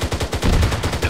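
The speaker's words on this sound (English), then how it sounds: "Gun action going here for this OP ass tank" Rapid gunfire from a tank's guns in a combat video game, a loud, close burst of repeated shots in a steady rhythm, each gun fired separately, with no talking.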